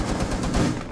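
A single burst of video game gunfire: rapid, loud shots run together in a dense blast lasting about a second.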